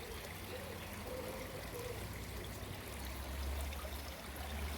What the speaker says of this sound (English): I love the sound of flowing water as well.